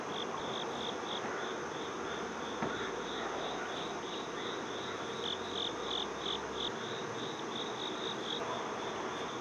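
Bees hum at a beehive while it gets an oxalic acid treatment, a faint and steady outdoor drone with a high, pulsing insect-like chirr running the whole time.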